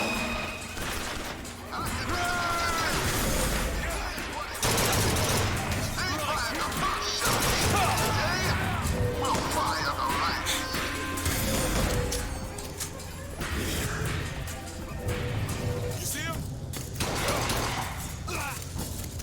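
Gunfire in BioShock Infinite rattles and bangs through a chaotic firefight, with loud bursts, crashes and metallic impacts that stay dense throughout and occasional voices mixed in.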